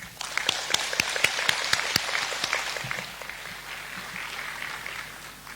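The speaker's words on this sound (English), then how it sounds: "let's give him a big warm of applause" An audience applauds an honoree at an academic ceremony conferring an honorary professorship, with some sharp individual claps standing out at first before the clapping settles into a softer, thinning patter.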